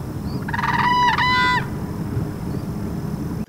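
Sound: adult crane alarm call

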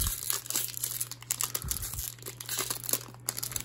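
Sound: opening a Pokemon Vivid Voltage booster pack

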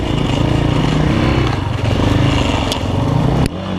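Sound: KOVI Lite 300 enduro motorcycle riding

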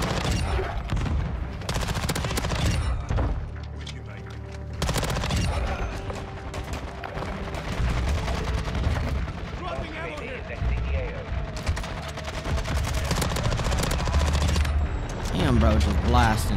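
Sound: gunfire in Modern Warfare video game

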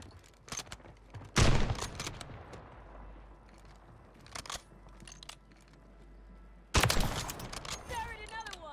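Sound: gunshots in Call of Duty Warzone video game, Glock and Kar98k

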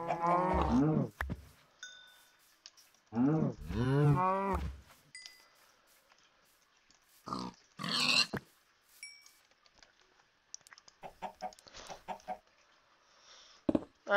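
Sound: cows mooing in the video game Minecraft

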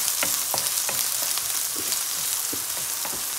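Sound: soya meat frying in oil

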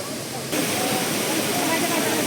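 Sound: Shypit waterfall in western Ukraine

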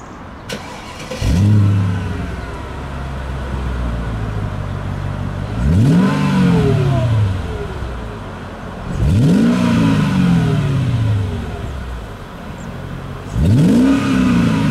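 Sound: Mercedes SL500 car engine revving

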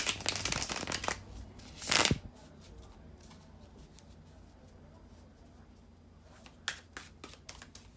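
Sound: shuffling tarot cards

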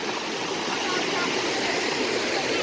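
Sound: waterfall in a cartoon

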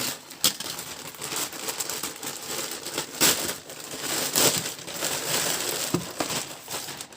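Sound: unpacking an AliExpress parcel, plastic bag crinkling

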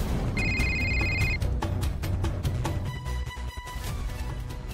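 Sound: phone ringing unanswered

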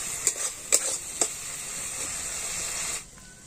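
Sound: frying ginger-garlic, cumin and chili spice paste with water

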